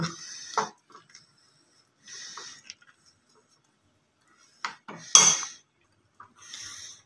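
A spoon clinks and scrapes against a bowl while Kashmiri red chili powder is stirred into a loose, watery egg-dish spice mixture, giving sparse, irregular bursts of metallic tapping separated by silent gaps.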